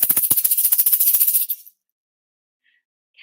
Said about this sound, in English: I might do it with a shaker this time